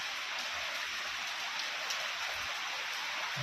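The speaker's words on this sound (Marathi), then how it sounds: "दाखवतो पाऊस किती जोरात चालू आहे" Heavy rain pours down steadily, a dense, even hiss of water hitting surfaces with no pauses and no voices.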